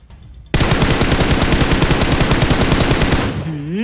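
Sustained automatic M4 rifle fire in the PUBG Metro video game, a loud, rapid, steady burst of shots lasting about three seconds after a quiet start, then a brief voice at the end.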